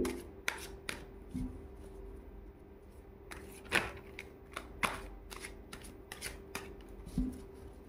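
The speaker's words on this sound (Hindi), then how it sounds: "तो चलिए कार्ड्स निकालते हैं।" Tarot cards shuffled and drawn for a reading, a series of quiet close crisp snaps and riffling flicks spaced irregularly over a faint steady background hum.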